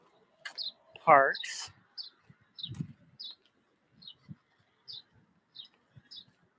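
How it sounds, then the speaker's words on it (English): Small birds chirp in a little Paris park, short high tweets repeating every half second or so over quiet outdoor ambience, with a person speaking briefly near the start. "I hear the birds chirping."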